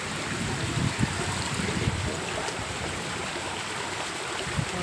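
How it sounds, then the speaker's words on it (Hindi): Heavy monsoon rain pours down in a village with a dense, steady hiss while water rushes continuously through a drain nearby, loud and unbroken. "देखिए नाली में वो कितना पानी चल रहा है, और ऊपर से भी देखिए कितना पानी पड़ने लग रहा है।"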